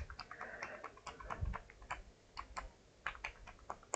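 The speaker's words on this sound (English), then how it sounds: "I'm just pressing every single key on the keyboard." A computer keyboard is pressed key after key in quick, irregular clicks, faint and close, with no talking.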